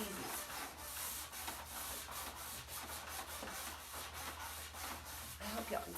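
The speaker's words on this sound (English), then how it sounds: "I'm just gonna show y'all just a little bit of how you can bring out the lines and the curves and details and all that with just a little hand sander" A small hand sander scrubs painted wood furniture with a continuous, close, rasping hiss in short repeated strokes, with a low steady hum underneath.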